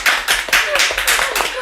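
A small live-stream studio group claps in a burst of quick, close, overlapping hand claps, steady for under two seconds, with voices mixed in underneath.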